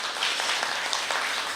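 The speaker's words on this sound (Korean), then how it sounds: "박수 한번 주시죠" Applause from a forum audience at an arts theatre, steady dense clapping filling the room at moderate loudness throughout.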